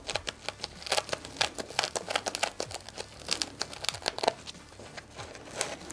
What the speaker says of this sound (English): you just kind of like teasing the foam back and then chasing it along